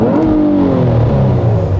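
A 2016 Nissan Maxima SR with a 3.5-litre engine revs hard, its loud, close-up drone sweeping down in pitch as the revs fall over about two seconds, with no voices.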